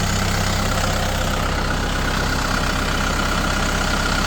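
A turbocharged 62-horsepower Kubota M6240 tractor engine idles steadily up close, a constant low diesel rumble with a dense mechanical rattle and no break.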